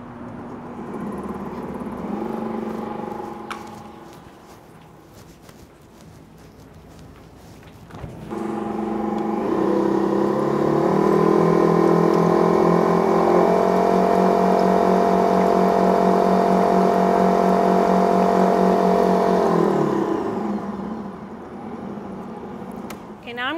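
A stand mixer with a dough roller and scraper attachment blends brioche ingredients, a steady mid-pitched motor whir running for about twelve seconds before winding down, preceded by quieter handling noises.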